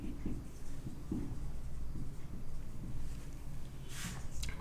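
Marker or chalk scratches across a board in short, irregular strokes while an equation is worked out, with faint soft scraping textures close by and no voices.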